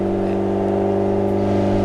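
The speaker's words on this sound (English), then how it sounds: "we're running in the new gearbox on its lift, on its stands, as per McLaren" A McLaren race car engine runs steadily while a new gearbox is run in with the car up on stands, giving a loud, close, even drone with no change in pace over the brief stretch.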